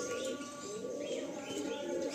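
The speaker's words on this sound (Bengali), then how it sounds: "পায়রাটা খুব ভালো নাসলের পায়রা" Pigeons in a loft cooing softly amid a steady murmur of birds and background noise, faint and continuous throughout.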